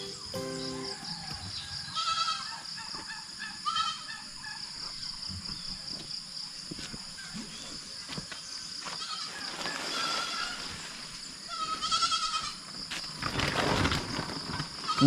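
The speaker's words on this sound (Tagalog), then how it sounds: "Mga kambing po yung kasabay mo dito." Goats on a farm bleat several times across a steady outdoor ambience, the calls coming in uneven bursts, some closer and louder, with insects droning in the background.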